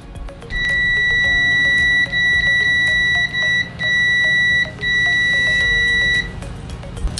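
An OWON OW18E Bluetooth multimeter in continuity mode beeps at maximum volume, a loud, sharp, steady electronic tone held in several long stretches broken by short gaps.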